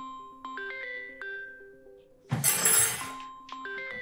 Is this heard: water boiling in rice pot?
no